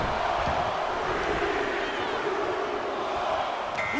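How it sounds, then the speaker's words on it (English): Roaring arena crowd during a men's Royal Rumble match in the WWE 2K24 video game, a dense, steady wall of cheering that holds loud and close across the whole stretch. "Just listen to the crowd!"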